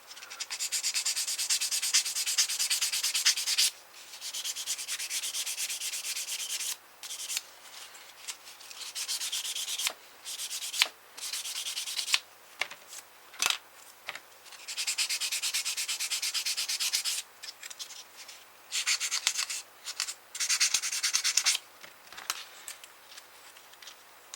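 Sanding stick rubbing a plastic hull part of a Trumpeter Type VIIC U-boat model, steady close scratchy strokes in repeated bursts with brief pauses between them.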